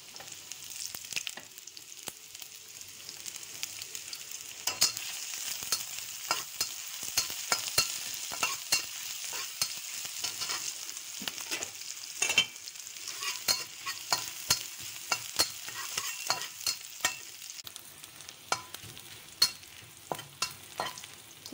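Ginger fries in hot oil for a vegetarian stir-fry, a continuous close sizzle broken by frequent sharp clacks and scrapes of a utensil stirring the pan, with no voices.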